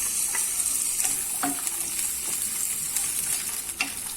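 Blanched, peeled almonds frying with browning onions in a pan, giving a steady close sizzle with occasional light stirring scrapes throughout.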